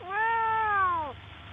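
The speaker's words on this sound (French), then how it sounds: "Les chats ont en fait développé un miaulement destiné uniquement aux hommes." A cat gives a single drawn-out meow, the throaty kind cats aim at people, clear and close with a steady pitch that dips at the end, heard alone over quiet background.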